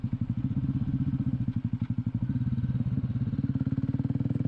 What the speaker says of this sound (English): You should be able to hear the exhaust noise on this video.